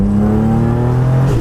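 A turbocharged car engine spins up, a loud, close, steady drone whose pitch climbs smoothly throughout, with no talking.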